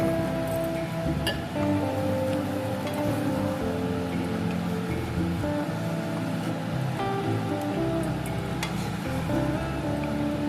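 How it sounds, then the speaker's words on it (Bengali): Water splashes and hisses into a pan of hot spiced curry base with potatoes, a continuous pouring rush that holds steady and close, with a few faint clinks of the pan. "এখন আমি পরিমাণ মতো জল দিয়ে দেব"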